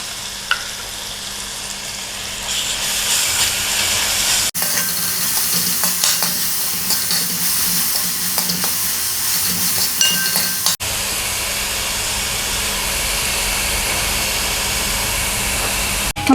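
Ground garlic and ginger paste fries in a pan for a fish curry, a steady bright sizzle with occasional clinks and stirring, the hiss shifting in level twice as the paste hits the hot oil.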